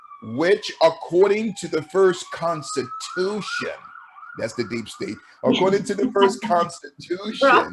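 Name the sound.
emergency vehicle sirens passing outside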